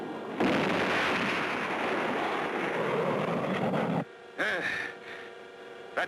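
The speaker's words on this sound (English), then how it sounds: "The timer shows that the first stage is almost ready to drop off." A cartoon rocket's first stage burns and then drops away, a sustained roaring rumble that cuts off abruptly, followed by a short whooshing burst and a brief final thump.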